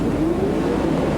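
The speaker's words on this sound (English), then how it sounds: "revs starting to build now" Group A touring car engines revving together on the grid before the race start at the 1996 Gold Coast Indy Carnival, a loud steady rumbling drone with a rising tone.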